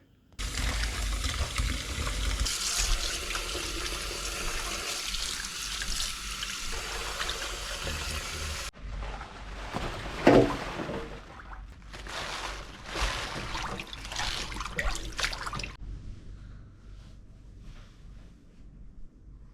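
Running water from a tap splashes over freshly picked garden greens being washed, a close, uneven stream with several stops and restarts, changes in flow and one sharp splash midway.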